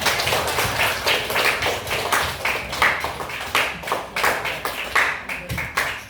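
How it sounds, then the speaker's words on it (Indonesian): Junior high students clap together in a classroom in rhythmic bursts, a repeating pattern of quick claps with brief pauses between groups, close and fairly loud. "Oke, tepuk tangan."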